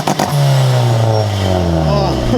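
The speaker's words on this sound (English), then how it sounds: "I've never heard launch control sound like that." An EG Civic hatchback's engine revs hard on launch control, a loud close-up drone that rises and then sags unevenly in pitch over two seconds, with a brief clatter at the start.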